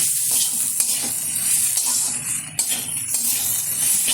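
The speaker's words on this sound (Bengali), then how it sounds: "এখন দিয়ে দেবো এর মধ্যে ডাল। সুন্দরভাবে কষিয়ে নেব।" Moong dal cooking with a homemade spice mix in a hot pan, a close, continuous sizzle broken by stirring scrapes and small bursts of spitting, with no voices.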